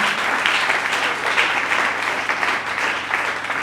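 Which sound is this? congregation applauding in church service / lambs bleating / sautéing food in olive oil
congregation applauding in church service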